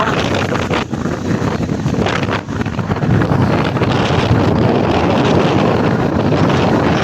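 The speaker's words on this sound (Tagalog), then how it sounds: "Sinasadya ko na marinig ko ang taluskus ng hangin talaga." Strong, steady wind from Typhoon Inday roars across the microphone over Manila Bay, with heavy buffeting and gusts, a loud continuous rush with faint water movement underneath.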